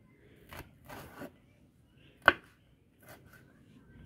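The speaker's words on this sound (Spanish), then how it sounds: "ahora voy a comenzar a picar los chiles." A kitchen knife chops chiles on a cutting board, with a handful of scattered cuts and one sharp, louder knock at the board, close by and otherwise quiet.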